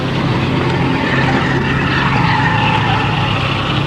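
Car tires squeal and skid in one loud, sustained, unbroken rush of noise with a gritty roar underneath, holding steady throughout without any voices.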